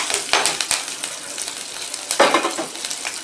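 Onions sauté in a pan with a soft frying crackle, broken by sharp, close spatula scrapes and clinks in two quick bursts.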